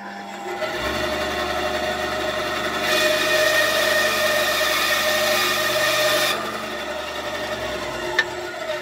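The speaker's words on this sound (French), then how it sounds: "C'est une petite scie à ruban qui me sert pour faire les jouets d'enfants" A small band saw cuts wood for a turned honey dipper, its motor running with a steady whine that thickens under load mid-cut, then eases back to idle, with a sharp click near the end.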